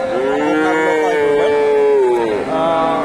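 A Friesian heifer moos loudly and close at the Dakumara cattle market, one long, drawn-out bellow that dips briefly before a short trailing continuation.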